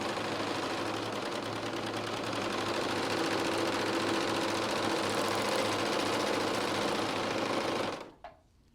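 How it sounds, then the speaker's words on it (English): Bernette serger stitching fabric with its knife set to the widest cutting width, giving a fast, steady, close mechanical hum and rattle that runs continuously before stopping abruptly with a brief clunk. "I'm going to start by moving the knife all the way away from the needles as possible"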